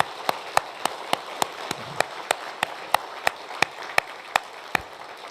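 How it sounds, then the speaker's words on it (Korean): A church congregation at a Sunday worship service in Gwangju claps together in a steady, fast unison rhythm. The sharp, evenly spaced claps repeat with no speech over them. "다 같이 뜨겁게 하나님 앞에 영광의 박수를 올려드리겠습니다"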